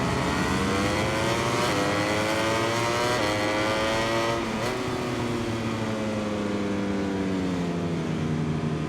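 A Ducati racing motorcycle in MotoGP 21 screams at high revs, rising through gear changes with brief dips, loud and continuous throughout.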